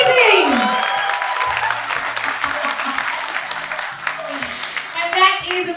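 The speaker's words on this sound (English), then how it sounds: "please keep the applause going" A large audience applauds steadily at a Matilda curtain call, dense clapping filling the hall while a voice speaks over it.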